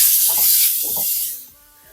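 Vinegar pours into mango pickle paste as a steady, close hiss that fades away near the end, with faint low murmurs beneath.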